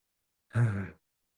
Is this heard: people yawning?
yes